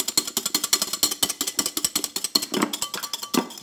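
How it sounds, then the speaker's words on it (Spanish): An electric mixer beats cake batter as sugar is added, for a corn cake. The mechanical whir runs steady and close with a fast, regular chattering pulse, heard alone with no talking. "Vamos batiendo y vamos agregando lo que nos quedaba del restante del azúcar."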